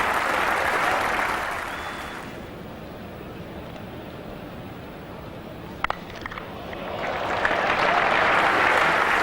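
A cricket crowd applauds a shot with a loud wash of clapping that fades, goes quiet for several seconds, then swells again into a second burst of applause.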